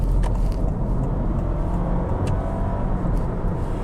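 A Honda Civic e:HEV hybrid cruises along a São Paulo highway, its steady road and engine drone loud and continuous from the cabin, with no talk.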